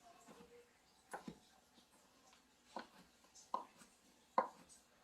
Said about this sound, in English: I'm going to take my knife and just cut this into small pieces as well